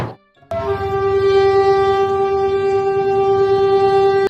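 A train sounds a loud, sustained horn close by after a brief lead-in, the steady blast holding for several seconds over a low rumble of rolling wagons, with no talking.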